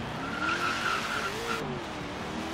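In Forza Horizon 3, a supercharged V8 Ford Crown Victoria donk squeals its tires while the engine rises and falls in pitch, a steady close skid with revving underneath.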